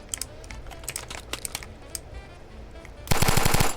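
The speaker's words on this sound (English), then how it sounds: "I will stick with the classic, I believe this is a Thompson. The classic mafia gun." A Thompson submachine gun fires in the video game Ancient Warfare 3, a loud rapid burst of gunfire coming after quieter clicking and tapping noises.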